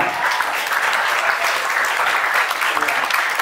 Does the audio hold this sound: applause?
yes